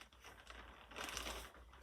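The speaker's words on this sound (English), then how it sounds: "I'll fold it in quarters, and I'll put it inside this see-through plastic bag" A see-through plastic bag crinkles as a folded t-shirt is slipped inside, a faint close rustle that swells into louder crackling near the middle and ends with a sharp crinkle.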